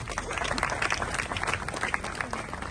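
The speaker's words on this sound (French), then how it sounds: "On applaudit Dr Anthony Constant, s'il vous plaît." An audience applauds Dr Anthony Constant at a welcome event in Cap-Haïtien, a steady, dense wash of clapping from a crowd that carries on at even loudness throughout.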